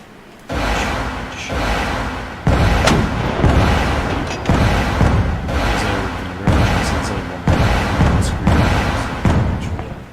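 Area-of-effect weapon blasts in a tank video game land as a regular series of heavy booms, roughly one per second, each a loud thump with a short fading tail.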